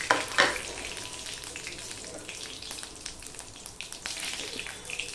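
Dried red chillies and panch phoron frying in hot oil for a gathi kochu dish, a steady crackling sizzle with a sharp spatter burst near the start, close and continuous, with no talk.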